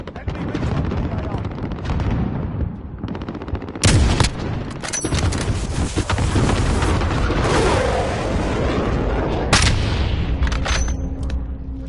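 Enemy missile strike explosions in Call of Duty Warzone: heavy booms and blasts arrive in a cluster with rumbling aftermath and scattered gunfire, loud and close, with a game voice or speech-like sounds at times.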